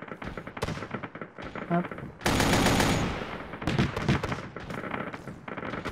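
Gunfire in the military video game Arma 3 comes as rapid automatic bursts and sharp single shots, including a loud sustained volley, close and intense, while a player speaks briefly over it.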